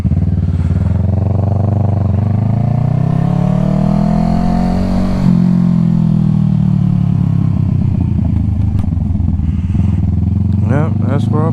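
A motorcycle ride through city traffic near Roseville, with a steady, loud engine drone and wind rumble that swells and eases as it accelerates, someone talking over it throughout.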